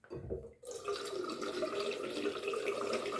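Water splashes and runs steadily at a sink while a face is wetted before a wet shave with an Astra razor; a brief quiet start gives way to continuous close splashing.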